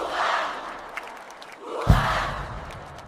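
A crowd at Brussels' Belgian National Day military parade swells in broad cheering and shouting, fading slightly then surging again with a low thump, a continuous mid-distance roar of many voices.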